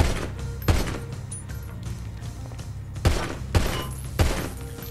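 Gunshots ring out in a movie fight scene as the shooter blasts cameras and computers, with several sharp loud cracks spaced apart over a tense background bed, one early and a cluster near the end.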